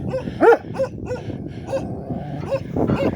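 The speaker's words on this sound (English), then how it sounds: "Good dog." A dog gives short yips and whimpering barks in a few separate bursts, fairly close, with a noisy background and no talk over them.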